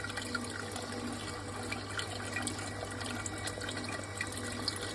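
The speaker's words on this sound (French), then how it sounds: "Le tuyau vert il fait remonter l'eau." Water is pumped up through a green hose on a homemade stainless steel Iceolator machine, giving a steady, continuous rushing and trickling flow, moderately loud, with no voices.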